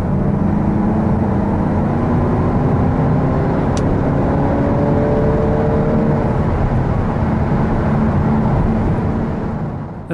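The 2.2-litre diesel engine of a Mazda 6 Tourer estate revs while driving, a steady smooth drone inside the cabin that rises gradually in pitch and stays refined, with no talking.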